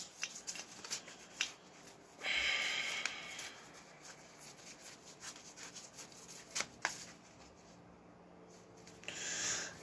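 Tarot cards being shuffled by hand, a soft papery riffling and rubbing that comes in bursts, with a fuller flurry early on and quieter handling between, close and fairly faint with no talking.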